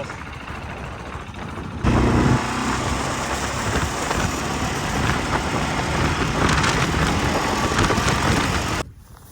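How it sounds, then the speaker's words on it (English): A loaded adventure motorcycle riding through the California desert gives a steady, loud rushing roar of engine and wind that starts abruptly and carries on evenly for several seconds before cutting off, with no voices. "Bike loaded, ready to roll."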